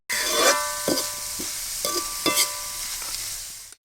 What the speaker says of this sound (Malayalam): ഇതിലേക്ക് ആവശ്യമായിട്ടുള്ള ഉപ്പിട്ട് കൊടുത്തിട്ട് നല്ലോണം ഇളക്കി കൊടുക്കുക